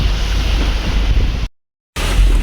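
Loud, steady rush of water from a full canal near Harnoli Mor on the way toward Mianwali, with broadband wind-like noise throughout and a brief dropout.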